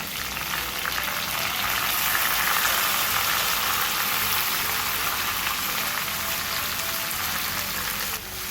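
Pieces of cluster bean hiss and sizzle steadily in hot tempering oil in a pan, a loud, even frying sound that carries on alone without pause.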